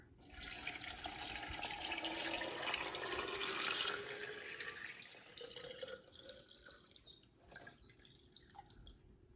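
Limewater is poured into a container for preserving eggs: a steady, close splashing and trickling stream that grows loud, then tapers into scattered drips and small splashes.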